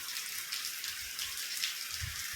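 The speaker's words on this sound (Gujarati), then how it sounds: "જો વરસાદ તો ચાલુ છે" Rain falls steadily on a village farm in Gujarat, a soft continuous hiss of drops with faint pattering and no voices.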